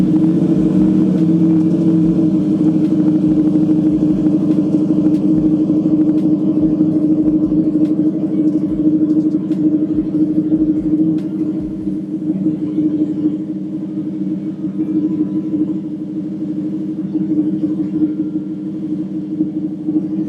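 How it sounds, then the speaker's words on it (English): A motorbike engine idles steadily after starting, a continuous low rumble with a strong mid-low hum and no clear revs, close and loud throughout. "Turn on your bike."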